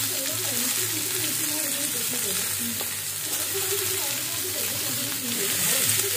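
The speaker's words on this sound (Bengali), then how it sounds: "আর কুমড়ো তো খুব তাড়াতাড়ি ভাজা হয়ে যায়," Pumpkin frying in a pan with a steady, loud sizzle and hiss throughout, stirred now and then, while a person talks over it.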